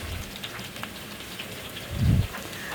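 Pieces of ash gourd fry in hot oil in a pan, making a continuous crackling sizzle with a brief low thump partway through.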